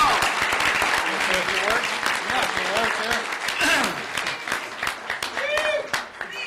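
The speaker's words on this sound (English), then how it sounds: "Give a round of applause." A crowd applauds steadily, dense clapping filling the room, with a few voices and cheers rising through it.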